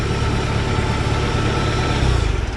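A restored Farmall Super C tractor engine idles continuously at close range at an auction, a steady, rumbling, low droning hum that swells slightly near the end, with no voices.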